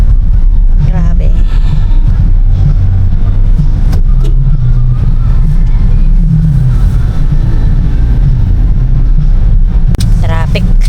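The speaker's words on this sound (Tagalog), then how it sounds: "Traffic." Road traffic heard from inside a car during a town fiesta: a continuous loud low engine and road rumble fills the clip, with people talking over it.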